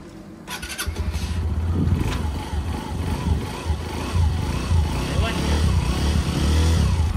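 A motorcycle on a winter ride in Heihe, northeast China, is started in the cold and settles into a steady, loud, close idle with a low rumbling throb, while a person talks over it.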